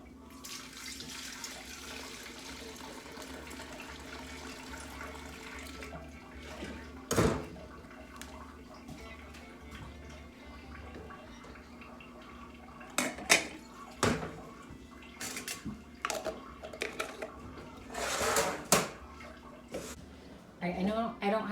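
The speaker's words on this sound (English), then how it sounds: "I'm gonna go ahead and filter her milk" Fresh Jersey cow's milk is filtered in a farm kitchen, with soft liquid pouring and trickling under clattering metal and dish knocks, several sharp clanks and handling sounds scattered throughout at a moderate, close level.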